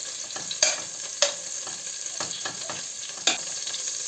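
Butter, about 50 grams, melting in a saucepan for an apple pastry filling, giving a steady close sizzle with a few sharp clicks and clatters of a utensil stirring.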